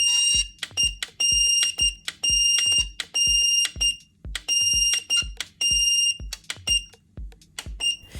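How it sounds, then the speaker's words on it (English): High electronic beeps in quick bursts from a standing fan's control buttons, each paired with a soft click of a press, repeated again and again up close. "the sound these buttons produce is unmatched"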